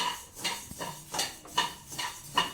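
Garam masala spices dry-roasting in a pan, stirred in a slow, regular rhythm of about four scraping, rattling strokes, close and fairly loud with no talking.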